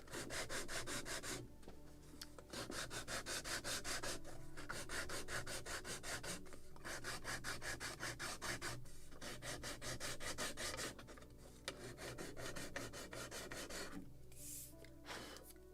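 Steady rubbing of sandpaper over the chamfered edge of wooden planking on a model of the 1776 gunboat Philadelphia, continuous close strokes in long bursts with brief pauses, no talking.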